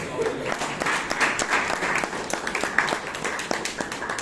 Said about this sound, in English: I think Priyanka deserves a round of applause once again.